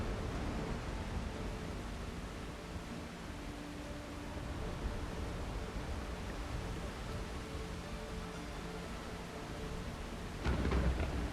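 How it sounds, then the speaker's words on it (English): Steady rain in the pirate survival game Windrose, a continuous broadband hiss holding even throughout, with a short low rumble near the end. "We're building in the rain."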